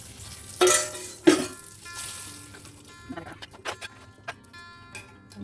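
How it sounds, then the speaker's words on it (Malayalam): Tempering spices and oil for kappa biryani sizzle and pop in hot oil, with a couple of sharp loud crackles early on followed by lighter scattered spatters. "നല്ലതായിട്ട് ഇങ്ങനെ ഈ എണ്ണ താളിക്കുന്നതിൻ്റെ കൂടെ വറുത്ത്"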